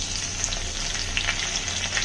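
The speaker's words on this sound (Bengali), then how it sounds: "লাল হয়ে আসা পর্যন্ত ভেজে নেব।" Spices, cinnamon pieces and bay leaves, frying in hot oil in a pan, giving a steady, loud, close sizzle with faint crackles throughout and no voices.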